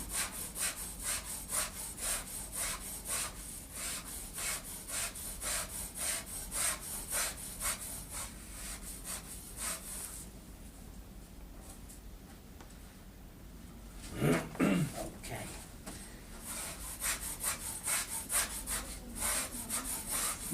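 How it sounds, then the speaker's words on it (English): Repeated rhythmic scraping strokes across Flotex waterproof carpet, close and steady, pause briefly midway, then resume. "So, get in there, again, scrape."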